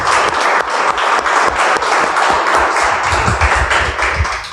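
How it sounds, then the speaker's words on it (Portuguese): A church congregation claps for Jesus during an evening service, a dense, steady wash of applause from many hands that holds at an even, loud level throughout, with no voices over it. "Você pode aplaudir o Senhor Jesus nessa noite?"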